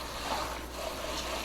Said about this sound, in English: We're just going to rinse that off a bit.